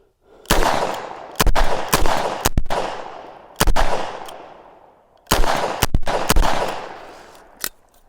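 Loud, close gunshots from a S&W 627 Performance Center revolver come in two quick clusters of sharp cracks with ringing decays, separated by a pause and ending with one fainter final shot.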